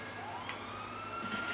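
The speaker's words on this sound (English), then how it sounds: "They have a police car with them, or the police came." A faint police car siren wails in Grand Theft Auto Five, a thin rising tone running through a steady wash of game noise and rumble.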